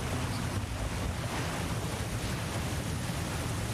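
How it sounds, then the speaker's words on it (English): Water overflowing past a jammed oar in the video game God of War Ragnarök: a continuous rushing, surging flow, loud and broadband, steady throughout with no speech. "The ore's jammed and it's making the water overflow"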